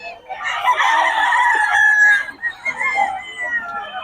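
A stag rooster crows loudly and close by in one drawn-out cock-a-doodle-doo, followed by a shorter, rougher call.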